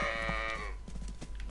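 Sheep in the survival game DayZ giving a strained, wavering bleat close by, the sound breaking off after about half a second and leaving only low ambient rumble.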